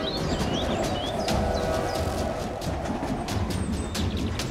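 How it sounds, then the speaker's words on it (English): A train rumbles along railway tracks in a thunderstorm setting, a dense continuous roar with rhythmic clicks and clacks, loud and close, with birds faintly chirping above it. "A train is approaching."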